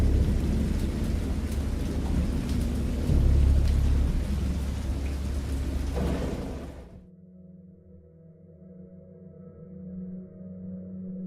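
Heavy rain roars with a low rumble of thunder, then cuts off abruptly to a quieter hum with faint tones.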